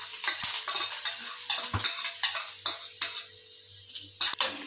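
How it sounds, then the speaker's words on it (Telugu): Finely chopped ginger and garlic frying in oil in a pan for pasta, with a soft sizzle under repeated scrapes and clinks of a utensil stirring against the pan, close and steady, no talking. "ఇప్పుడు ఇది పచ్చివాసన పోయేదాకా ఫ్రై చేసుకుందాం."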